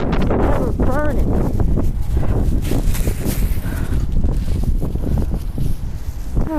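Cold winter wind buffets the microphone outdoors during a walk with a dog, a steady broadband roar with gusts throughout, mixed with rustling and footsteps and faint voices underneath.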